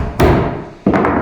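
Two sharp hammer blows drive 2-inch framing nails into wooden wall framing, each a loud close thud, the second followed by a quick double rebound tap.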